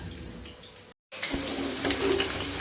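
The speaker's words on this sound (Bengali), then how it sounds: "এখানে একদিকে আমি জল ভরছি" Tap water gushes steadily into a container, a brief cut of silence interrupting the flow before it resumes, fuller and brighter, as the vessel fills.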